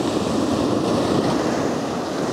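Choppy sea surf at Blackpool around sunset, a steady broadband wash of waves mixed with wind noise on the microphone, loud and continuous throughout with no voices.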